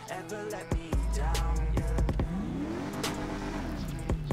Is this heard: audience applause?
no